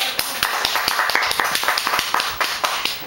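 A child claps her hands repeatedly, imitating how her father applauds: a row of sharp, close individual claps in an uneven but steady rhythm, with light background noise and no speech.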